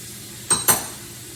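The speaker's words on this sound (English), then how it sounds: "I've put 1 egg in here and I'm going to scramble it." An egg being scrambled for an egg wash, two quick brisk whisking strokes against a bowl standing out clearly over a quiet kitchen background.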